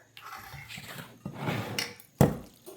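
A stuffed cabbage roll mixture is spooned into a casserole pan, giving a few soft scrapes and dull clunks of spoon against dish, ending in one sharper knock, quiet and close.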